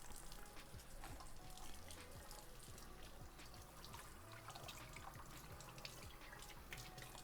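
Cold water runs from a kitchen tap in a steady, soft splashing stream, with faint trickles and clinks over a low background hum.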